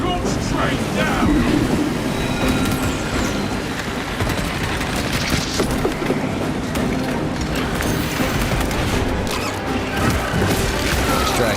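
A train launched down the tracks in the video game Space Marine 2 rumbles and clatters loudly and continuously, with crashing impacts and battle noise layered over the rail clatter.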